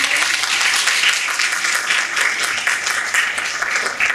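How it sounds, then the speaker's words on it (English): Steady, full round of applause from a crowd of students and families at a fifth-grade DARE graduation, continuous hand clapping sustained loudly throughout. "can you give them a round of applause and say thank you?"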